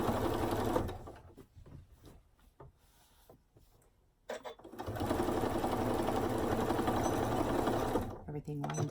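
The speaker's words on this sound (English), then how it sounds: "I'm just going to go ahead and sew that on." A sewing machine stitches binding onto a scrap quilt, whirring in short runs early on, then humming in a long, steady burst before stopping.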